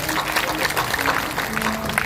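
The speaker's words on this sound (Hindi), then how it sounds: "ताली बजाइए जोरदारी तालियों से।" Audience applause at a religious discourse gathering led by saint Asang Dev ji, a steady dense wash of clapping lasting a couple of seconds, with a voice carrying over it.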